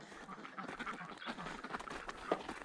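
Several ducks quack in quick, overlapping bursts, faint and somewhat distant, with a louder quack near the end.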